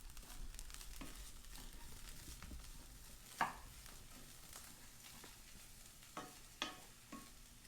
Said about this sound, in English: I'm going to give this a mix